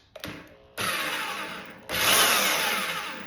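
A nearly new Bosch power drill whines in two long bursts, sounding strained and grinding as it cuts a tube with a holesaw on a tube notcher, with a short clatter before the first.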